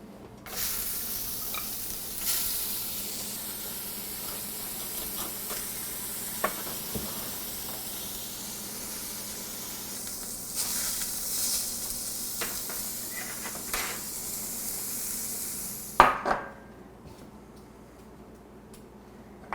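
A bratwurst sausage test patty fries in a skillet with a steady, quiet sizzle and occasional stirring scrapes, the hiss cutting off near the end.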